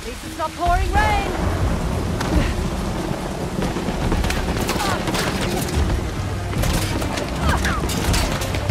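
Heavy rain pours steadily in Uncharted: The Lost Legacy, a loud continuous wash mixed with booming thunder and gunfire-like bursts, with game sounds and some vocal noise over it.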